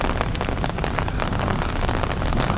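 Heavy rain pours in Taipei and is growing stronger, a dense, close patter of drops hitting surfaces that rushes on without pause.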